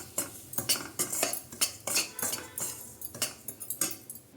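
A spoon scrapes and clinks rhythmically against a pan as Bombay rava fries for mango rava kesari, with repeated close, bright metallic strokes and no talking.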